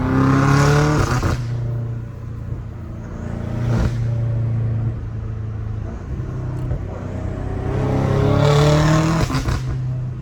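Deep BMW M5 Competition engine revving in bursts with crackling exhaust pops between them, loud and close, no talking.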